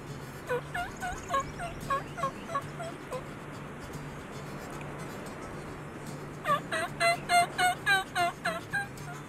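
Wild turkey gobbling outdoors during a hunt, a series of loud, rapid rattling calls repeated in two bursts with a gap between, over steady background hum and faint bird chatter.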